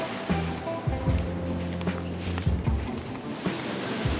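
Waves wash onto a sandy beach at a resort on Lombok Island, Indonesia, with a constant close roar of surf and repeated low surges, without speech.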